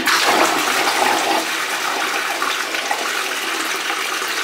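A toilet flushes close by: a loud gush of rushing water that swirls and drains steadily for several seconds without a break.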